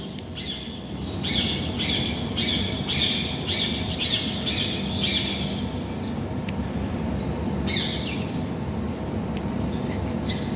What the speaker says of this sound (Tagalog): Ang ganda makinig ng huni.